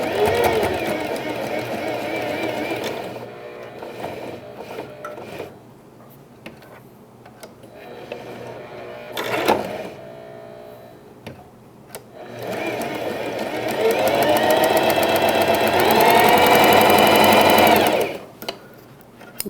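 A domestic sewing machine sews a pet bandana in long, steady whirring runs with a pause in the middle, loud and close, with someone speaking briefly during the quiet stretch.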